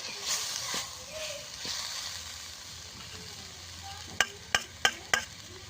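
Thoothuvalai greens being sautéed in a pan, a soft ongoing sizzle with occasional stirring scrapes, then four sharp clacks of a utensil against the pan near the end, while someone talks over it.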